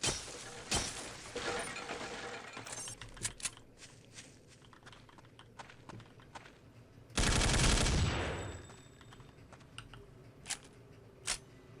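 Rapid gunfire in the video game Counter-Strike Condition Zero, with bursts of automatic shots, sharp single cracks, and one loud sustained blast near the middle, heard alongside keyboard clicks at moderate loudness.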